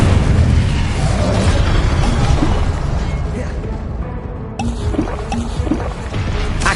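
A fire spell cast in the wizarding video game Hogwarts Legacy roars as a loud, sustained whooshing blaze with crackling bursts and booms, continuous and dense, with a brief dip before flaring again.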